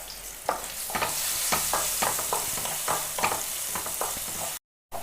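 Banana pieces saute in hot ghee alongside fried cashews and raisins, a steady close sizzle broken by repeated scraping stirs of a spoon against the pan.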